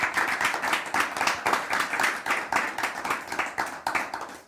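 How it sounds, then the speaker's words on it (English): Audience clapping at a startup bootcamp event, a moderate group producing a rhythmic, somewhat uneven patter of hands that fades out at the end. "I would like to ask for the round of applause for the startups"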